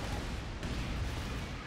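A grenade blast in a first-person arena shooter, heard as a dense, sustained low boom with rumbling gunfire-like crackle filling the whole moment, loud and close, with no clear talking over it.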